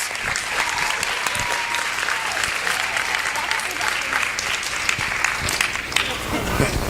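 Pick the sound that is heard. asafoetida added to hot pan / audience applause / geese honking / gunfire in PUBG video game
audience applause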